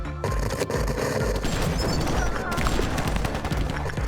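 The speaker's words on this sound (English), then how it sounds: "Gunfire." Rapid gunfire in the video game Lobotomy Corporation, a dense rattling fusillade of shots with booming low thuds running continuously, fairly loud throughout.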